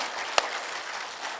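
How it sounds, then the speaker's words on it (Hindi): Applause from a crowd gathered for a spiritual discourse, a quiet continuous patter of many hands with one sharp nearby clap standing out early, heard somewhat distant. "तालियां जोरदार जोरदार जोरदार और जोरदार तालियां 1 मिनट लगातार बजाते जाएं।"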